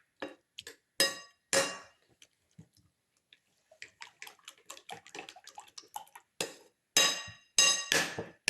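Egg omelette batter with cucumber and tomato whisked in a bowl, giving irregular bursts of scraping and clinking against the bowl with short pauses between strokes, close and fairly loud.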